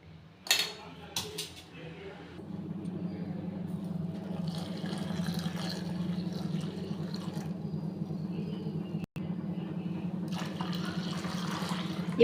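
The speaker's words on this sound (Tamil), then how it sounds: "இப்போ நம்ம நிறையா ஜலம் விட்டுருக்க மாதிரி தெரியும்" Water is poured into a cooking pot while preparing a homemade herbal drink for joint and back pain: a few sharp clinks open, then a soft, steady filling gurgle runs on at low level.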